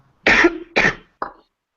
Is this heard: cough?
yes